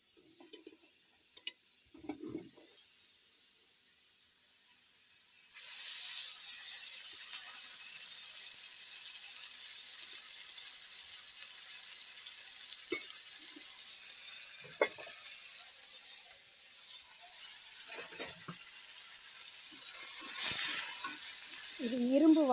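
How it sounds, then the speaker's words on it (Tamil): Mushrooms sauté in sesame oil in an iron pan, a steady soft sizzle rising after a few seconds of quiet clinks and scrapes, with faint utensil taps and stirring scrapes scattered through. "நல்லெண்ணெய் ஊற்றி வதக்கிடுவோம்"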